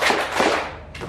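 A classroom of biology students doing a group clap drill, producing two sharp, loud collective claps close together, followed by a fainter third burst as the sound trails off.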